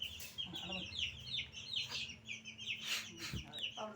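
Chickens clucking in a quiet backyard run, a series of short repeated clucks and chirpy calls spread across the clip, fairly distant and soft, with a faint voice in the background.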